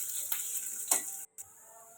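Chopped onions sizzling in a pan for a salted hilsa fish and vegetable dish, a steady bright hiss with a couple of scraping stir strokes, close and alone, briefly cutting out near the end.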